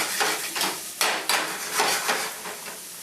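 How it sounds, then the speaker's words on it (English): Onions and green peppers sauté in a pan with a steady close sizzle, broken by a few sharp clinks and scrapes of a utensil against the cookware. "we're going to let our veggies saute"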